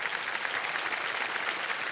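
Studio audience applause on the Kaun Banega Crorepati quiz show, a dense, even roar of clapping that stays constant and fairly loud through the short stretch, with no voices.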